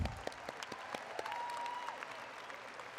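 At an outdoor university commencement ceremony, a distant crowd gives a faint, steady round of applause with scattered louder claps throughout.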